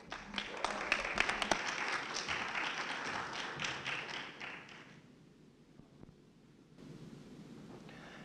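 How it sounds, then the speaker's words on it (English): Audience applause for a speaker at a gaming panel, a dense clatter of clapping for about five seconds that thins out and fades into quieter room noise. "a warm welcome and a round of applause for Josh Boykin."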